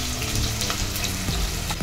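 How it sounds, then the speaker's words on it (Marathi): Steady, loud sizzling of onion frying in hot oil for mutton biryani, with a few soft clicks of stirring; no voices. "त्यामध्ये मी हा कांदा चांगला लाल होण्यासाठी चांगला तेलामध्ये मी परतून घेणार आहे"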